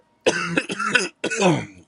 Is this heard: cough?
yes